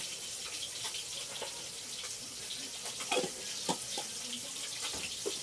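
Fish frying in oil in a kadai for a Bengali-style breakfast gives a steady, close hiss of sizzling with small spattering pops, alone with no voices.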